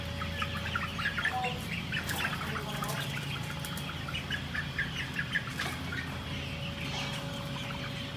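Chickens clucking and calling inside a chicken farm, a steady dense chorus of overlapping fowl sounds with a constant hum beneath, moderately near and continuous throughout.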